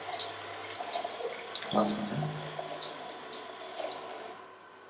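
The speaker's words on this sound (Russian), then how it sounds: "вот здесь вода побежала сюда в раковину" Tap water running into a sink in a washroom in Como, Italy, a close, steady splashing stream with small drips and a brief voice over it before it fades at the end.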